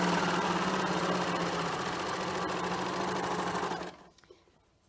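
A serger sewing machine stitching a test seam on scrap fabric with heavy thread, a loud steady fast mechanical whir that runs for several seconds and then stops, leaving faint clicks and handling.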